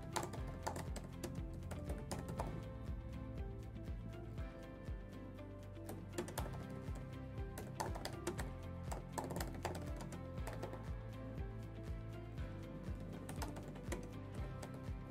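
Answer option text being typed on a computer keyboard in a survey editor: a continuous stream of quick, light key clicks at an even, rapid pace, faint and close, with no talking.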